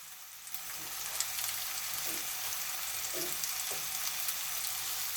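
Chicken fries in hot oil for potato chops, a continuous moderate sizzle and crackle with a few soft stirring knocks.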